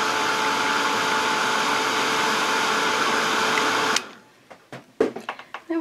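A hair dryer blows to dry paint on a brush, a loud steady close whoosh with a tonal whine for about four seconds before it cuts off, followed by a few scattered handling clicks and knocks.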